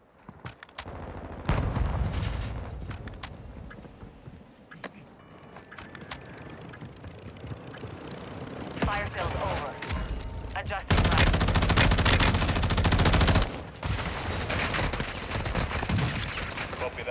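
Rapid gunfire from the video game Warzone, sharp repeated shots in bursts and sustained strings, loud and close with dense volleys, mixed with game sounds and occasional talking.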